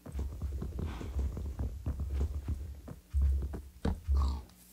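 A pig in Minecraft on the PC Java edition, a series of short grunting oinks in uneven bursts, fairly close and clear, with louder thumps near the end.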